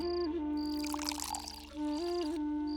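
Water pours and trickles for a couple of seconds beneath a steady tonal hum and background music.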